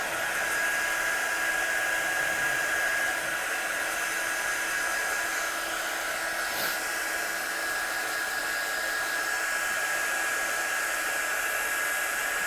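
A heat gun dries a stamped watercolour card, giving a steady, unbroken blowing hiss close by that holds at an even level throughout, with no talk over it.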